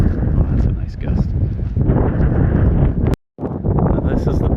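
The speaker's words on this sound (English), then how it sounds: "Oh, that's a nice gust." Strong wind gusts roar across a beach near the water, loud and close with heavy buffeting rumble, briefly cutting out for a split second before blowing on; a voice talks over part of it.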